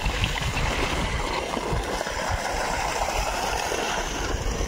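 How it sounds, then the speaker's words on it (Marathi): A 5 HP submersible water pump motor pours a steady, loud, unbroken rush of water into a pond, dense splashing noise with no pauses. "पाहू शकता ते मोटर पाणी किती मारत आहे."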